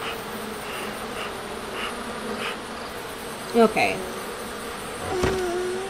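Buzzing bees in The Sims 3 life simulation game, a steady insect drone under game sounds, with a few sharper chimes and a brief spoken word.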